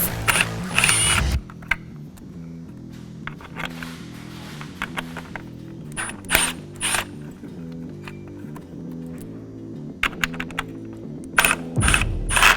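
Ratchet on a Polaris RZR Pro XP removing brake-light screws, several bursts of quick clicking with metallic handling clatter in between, close and crisp.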